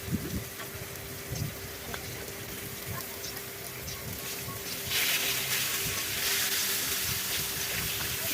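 Fish pieces fry in oil in a kadai, giving a continuous sizzling hiss with scattered pops. The sizzle swells noticeably louder partway through and then holds steady.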